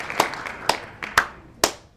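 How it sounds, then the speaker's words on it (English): Four slow, sharp hand claps ring out close to the microphone at an even spacing, a lone person's sarcastic-sounding mini round of applause with no crowd. "just give that a round of applause"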